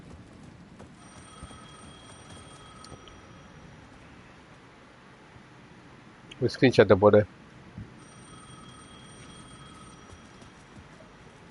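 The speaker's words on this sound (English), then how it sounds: "The payphone at the edge of the plaza was ringing again." A payphone rings in the video game Alan Wake II, a faint, steady electronic trill repeating in two stretches, broken in the middle by a brief loud burst of a voice speaking.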